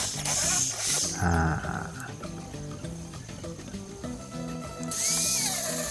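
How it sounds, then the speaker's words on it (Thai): A power drill whirs in loud bursts while boring a hole in part of a homemade spear gun, with mechanical rattling and a tonal tool whine, no speech. "เจาะเพื่อให้มันเลื่อนง่ายขึ้น"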